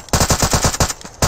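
Automatic-weapon warning shots in the military video game ArmA 3: a loud, close burst of rapid gunfire, roughly eight evenly spaced shots, with a short gap before one more shot.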